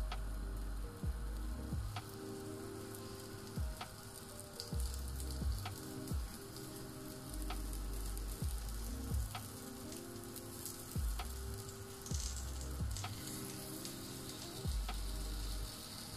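Waffle batter frying in oil in a small pan, two waffles at a time, giving a steady quiet sizzle with faint periodic ticks and pops throughout, no talking.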